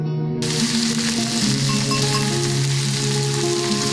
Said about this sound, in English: That's the music of cooking. Fry one side until golden brown.